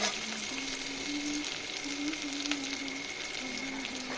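Chopped onion with whole spices frying in a pan for a cauliflower and fish curry, giving a steady close sizzle with faint crackles throughout, no talking.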